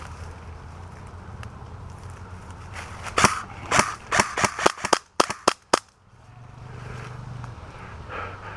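Airsoft rifles firing during a skirmish at an outdoor field, a rapid burst of about ten sharp cracking shots in quick succession, loud and close, with a low wind rumble before and after.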